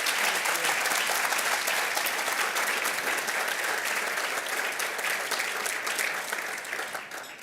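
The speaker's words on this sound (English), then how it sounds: "we need to give her a gigantic round of applause" A large audience at a Butterfly Bash charity evening claps for a mother being honoured, dense, loud applause sustained throughout and thinning slightly toward the end, with a few cheers mixed in.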